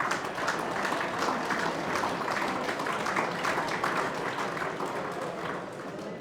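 Audience applause at an HFL Mail Medal awards night, a steady, dense wash of clapping from a crowd sustained for about six seconds without a break.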